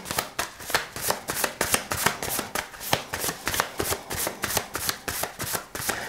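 Tarot cards are shuffled close to the microphone in a quick, regular series of crisp riffling bursts repeating steadily throughout, with no speech.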